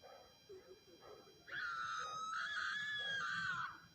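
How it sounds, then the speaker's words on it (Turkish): A woman's shrill, sustained scream from the Evil Nurse horror video game rises suddenly after a few faint low sounds and holds for about two seconds before cutting off. "hanımefendi çığlık attı"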